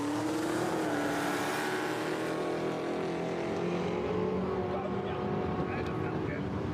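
A car accelerates hard at a street drag racing event, with a loud, sustained engine roar and rising pitch filling the whole stretch, broad and steady over crowd noise.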